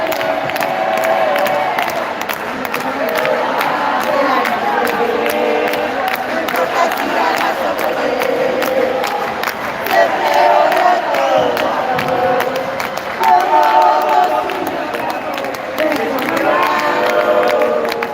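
Dense, continuous crowd roar at a first-division football match between Estrella de Boedo and Almafuerte, with cheering, shouting and scattered clapping swelling throughout, loud and close.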